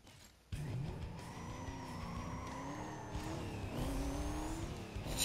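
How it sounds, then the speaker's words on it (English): A supercharged car in the racing game Need For Speed Most Wanted revs after a brief quiet start, its engine note rising and falling with a whining supercharger tone layered on top, steady and continuous. "Oh, this is a supercharger."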